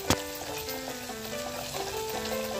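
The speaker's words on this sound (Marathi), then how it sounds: "आता हे मसाले छान परतून घेऊया फोडणीमध्ये." Spices, turmeric, Malvani masala and garam masala, frying in hot tempering oil for a phodni, a soft continuous sizzle with a sharp clatter at the start, close and fairly quiet.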